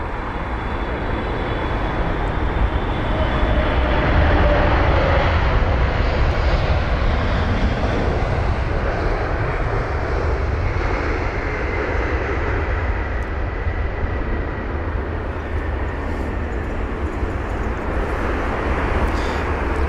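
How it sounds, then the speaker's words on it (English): An Emirates Boeing 777-300ER, twelve years old, arrives at London Heathrow with a loud, sustained jet roar that holds steady close by for the whole stretch, mixed with broad engine rumble and no talking. "there it is, the 777-300ER, which is 12 years of age, registered in February 2011"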